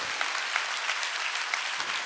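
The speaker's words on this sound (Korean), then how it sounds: "박수 치면 박수." A church congregation at a summer revival service bursts into loud applause, many hands clapping in a dense, vigorous patter with a few sharper individual claps standing out throughout.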